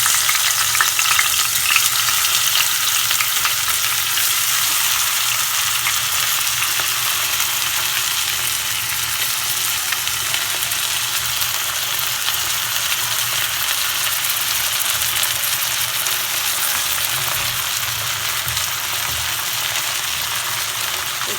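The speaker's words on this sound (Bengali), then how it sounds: "তেল গরম হয়ে গেছে এখন আমি মাছগুলো দিয়ে দেবো" Dried fish fry in hot oil in a frying pan, giving a continuous loud crackling sizzle that holds steady and close for the whole stretch, with faint stirring underneath and no voices.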